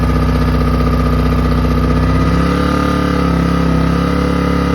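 A Briggs and Stratton small engine converted to propane runs loud and close, a steady chugging idle whose pitch shifts down partway through as it settles after a cold start on choke.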